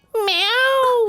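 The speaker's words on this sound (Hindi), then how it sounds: "बिल्ली होगी।" A single cat meow, loud and close, rising then falling over about a second, heard alone with no talk.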